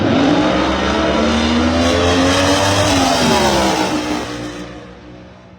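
A Top Fuel dragster makes a drag racing run at the March Meet, a loud, thunderous engine roar whose pitch climbs steadily, then fades away into the distance over the final seconds.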